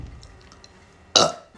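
After a sip of very cold soft drink, one short, loud, close burp bursts out of near silence near the end.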